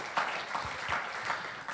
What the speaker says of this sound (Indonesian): Tepuk tangan dulu dong buat kemuliaan Tuhan buat di hidup Arya.